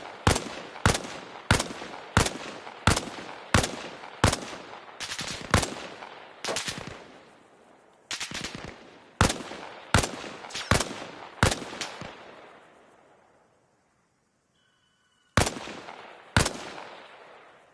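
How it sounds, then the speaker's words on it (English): Marksman rifle fire in the Arma Reforger combat game: sharp, loud single shots in a steady, spaced rhythm, about a dozen in a row, then a brief lull before two more reports, with no talking. "He's got a marksman rifle."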